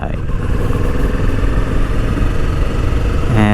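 A Kawasaki Vulcan S motorcycle fitted with a cafe racer style windscreen idles close by, a steady loud low rumble that holds even throughout, with a slight rise at the very end.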